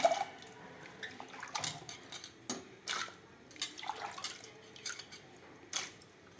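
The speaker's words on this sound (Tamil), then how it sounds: "ஃபஸ்ட்டு இந்த தண்ணியிலேருந்து இதை எடுத்து குக்கரில் போட்டுறேன்" Wet potato pieces are scooped from water and dropped into a metal pressure cooker, with splashes, drips and light clinks in irregular bursts.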